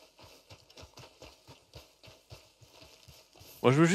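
Horse hooves clip-clop in Red Dead Redemption 2, a steady, close rhythmic trot of soft thumps running throughout, cut off near the end by a sudden loud vocal burst.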